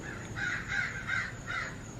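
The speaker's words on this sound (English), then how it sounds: "Oh, those are crows." Several crows caw outdoors, four or five harsh calls in a loose rhythm at moderate distance over a steady background hum, with no talking.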